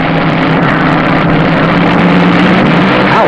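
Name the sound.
Top Fuel dragsters racing in the final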